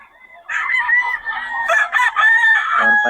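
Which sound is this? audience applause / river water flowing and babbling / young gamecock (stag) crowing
young gamecock (stag) crowing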